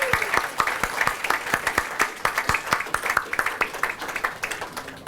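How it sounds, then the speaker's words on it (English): A crowd at a Cardiff Diwali 2022 event applauds an award winner, with a sustained round of clapping and distinct individual claps standing out near and clear throughout. "give him a round of applause for that"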